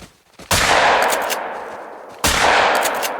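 Two loud shotgun slug blasts in the hunting game theHunter: Call of the Wild, about two seconds apart, each with a sharp crack and a long booming tail.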